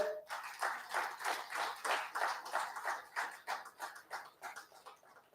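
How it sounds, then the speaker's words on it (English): Applause from an audience at a tribute event honouring Osamu Suzuki, a steady patter of many hands clapping for several seconds, fading slightly toward the end. "give them a big round of applause"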